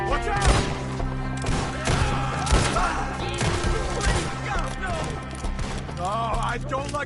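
Gunfire rings out in Red Dead Redemption 2 in loud, repeated bursts and sharp cracks during a chaotic firefight, with characters shouting over the shots.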